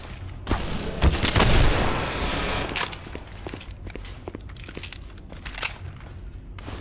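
Gunfire from the video game Black Mesa: Blue Shift, heard as a loud burst with sharp metallic clinks and clattering that dies away into scattered faint clicks, with no talking.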